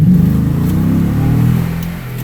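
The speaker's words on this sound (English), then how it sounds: "So here we go, little rev test." A 2018 Toyota Tundra with a TRD exhaust revs hard up close, its engine note swelling loudly and then easing back over about two seconds.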